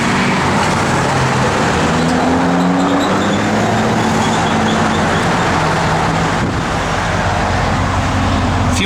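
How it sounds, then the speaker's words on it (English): A 1972 Chevrolet Chevelle with stock dual exhaust idles steadily, a loud continuous engine rumble with a slight wavering hum and no talk over it. "You turn the key, thing fires right up."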